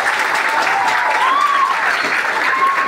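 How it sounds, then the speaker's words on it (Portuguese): Loud sustained applause from an audience at a Black Consciousness event at a state civic-military school, dense clapping with a few voices and whistles rising over it. "Gostaria de uma salva de palmas para a minha primeira negra."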